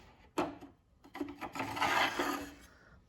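A table saw's metal miter gauge slides along the guide slot with a scraping, rasping rub, opening with a sharp clunk and followed by a longer grinding slide.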